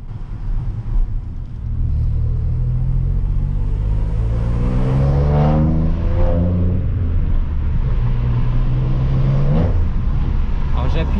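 A small car driving along with the accelerator only lightly pressed, its engine a steady low rumble with gentle rising revs throughout, up close and continuous.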